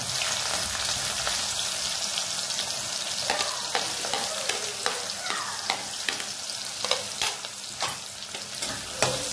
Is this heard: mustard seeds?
yes